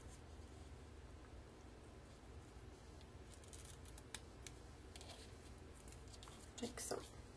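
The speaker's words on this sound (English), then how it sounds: "then I'm going to cut the ends" Scissors trim the ends of embellishments on a baby scrapbook page, giving soft crisp snips that are faint and close, over quiet room noise.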